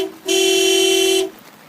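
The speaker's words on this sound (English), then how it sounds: "Again, the car honked" A car horn blasts in one sustained, loud, steady honk lasting about a second, sharp and close, used as an aggressive honk in an audiobook scene.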